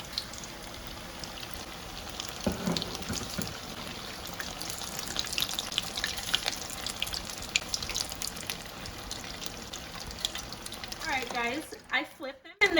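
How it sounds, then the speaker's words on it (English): Taco samosas deep-fry in oil with a dense, even crackle and hiss that holds steady throughout, a few bubbly pops near the end, and speech mixed in. "when you fry these, you want to fry them until each side is golden brown"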